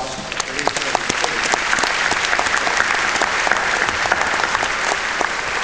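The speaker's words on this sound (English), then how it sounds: "If we could give him a round of applause for his presentation" Steady audience applause at a convention general session, a dense sustained patter of many hands clapping with no talk over it throughout.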